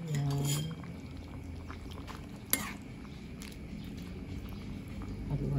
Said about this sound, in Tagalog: Halu-haluin lang.